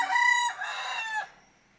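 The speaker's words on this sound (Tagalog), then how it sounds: "Ayan ang aking mga manok." A rooster lets out a single clear crow from nearby at a backyard chicken flock in hot late-afternoon weather, a short drawn-out call that fades quickly.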